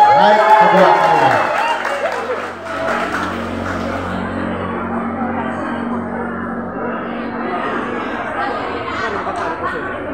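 An audience at a village anniversary contest of traditional Sangihe-language sayings applauds a contestant, a broad, steady wash of clapping that follows a speaking voice and carries on for several seconds amid crowd chatter.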